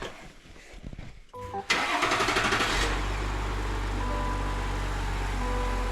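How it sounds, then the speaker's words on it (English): A truck engine cranks briefly, then catches and settles into a steady, close, loud idle, with a bit of faint talk before it starts. "I'll give her one more start. see if she still runs."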